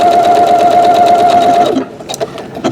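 A Janome sewing machine stitching a buttonhole runs in a loud, steady mechanical whir for well over a second, then stops, followed by a few faint clicks.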